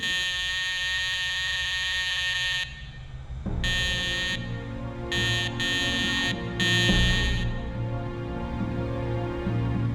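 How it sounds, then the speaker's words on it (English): A loud electronic buzzer alarm from a patient's bedside call button sounds in repeated on-off bursts over a steady hum, harsh and close. "They have an alarm next to their bed"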